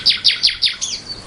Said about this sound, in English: Abigail, Barbara, do you know what bird that is in the garden that the guests are complimenting me for?